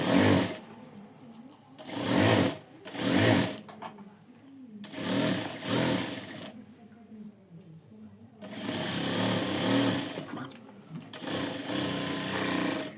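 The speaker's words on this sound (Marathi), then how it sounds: "आता ही अशी अस्तरला टीप मारून घ्यायला लागलोय" An electric sewing machine stitches the lining of a blouse sleeve, its rapid whirring needle running in close bursts of several seconds separated by short pauses.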